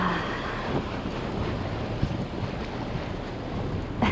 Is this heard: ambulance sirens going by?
no